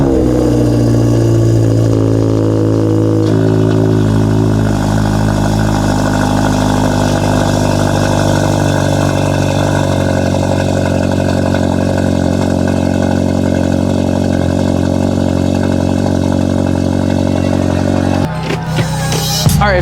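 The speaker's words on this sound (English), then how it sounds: "So let's start off with a cold start." A Hyundai Elantra N engine starts cold after sitting for days, then settles into a loud, steady idle close by. The sound shifts briefly near the end.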